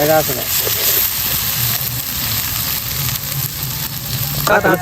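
Pakodi fry in hot oil with a steady loud sizzle and hiss while being stirred, and voices talk over the crackling.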